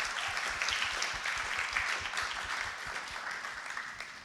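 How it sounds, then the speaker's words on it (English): An audience at a poetry slam applauds steadily for a few seconds, a dense wash of clapping at moderate distance that slowly thins toward the end. "Big round of applause for Mayura."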